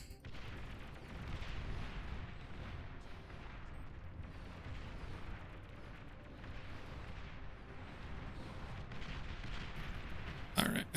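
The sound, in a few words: tanks firing in battle, from video game Beyond All Reason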